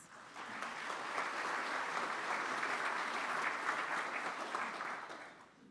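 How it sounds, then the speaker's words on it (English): Steady applause from a Rotary club meeting audience fills the room, sustained and fairly dense for several seconds before tapering off at the end. "Let's give them a round of applause."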